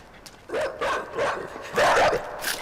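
Dogs bark in the video game Inside, a series of loud, close yelping barks in quick irregular bursts, several in a row with short gaps between them.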